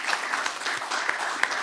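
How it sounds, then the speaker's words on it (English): Audience applause at a nuclear-sector workforce conference, dense rapid clapping from a crowd heard alone, steady and moderately loud with a few sharper individual claps standing out. "I think that deserves another round of applause because that is amazing."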